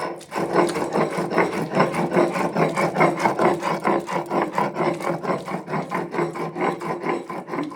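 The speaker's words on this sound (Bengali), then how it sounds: "আমি আজকে মিক্সিতে দেইনি পাটাই বেটে নিচ্ছি" Pointed gourd paste is ground by hand on a stone slab (pata), the grinding stone rasping back and forth in a quick, steady rhythm of repeated scraping strokes, close and continuous.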